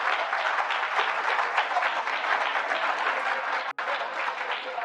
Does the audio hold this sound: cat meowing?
no